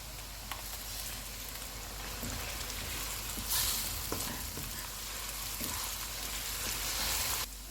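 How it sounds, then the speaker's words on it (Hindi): Whole spices sizzle and crackle steadily in oil in a pan with a few small pops and stirring clinks, no voices present, while cooking kaleji masala. "इसमें साबुत मसाला डालेंगे। इसको 30 सेकंड तक फ्राई करेंगे।"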